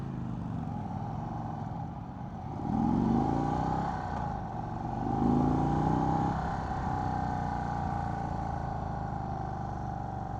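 A 2024 Indian Sport Chief motorcycle being ridden, with a steady engine drone and wind rush and two brief swells of throttle partway through, continuous and close.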